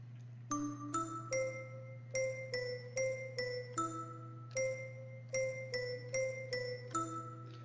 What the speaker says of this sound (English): Let's check out the ghost bell.